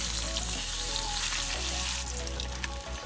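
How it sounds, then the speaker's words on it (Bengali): Rohu fish pieces frying in hot oil until reddish, giving a continuous close sizzle and crackle that carries on alone, without any talking. "এবার মাছগুলোকে আমি একটু লাল লাল করে ভেজে তুলে নেব।"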